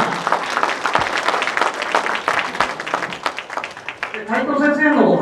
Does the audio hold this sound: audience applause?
yes